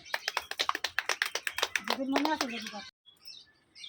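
A fast, even burst of sharp hand claps rattles off close by, then a voice speaks briefly before a short silence and faint room noise.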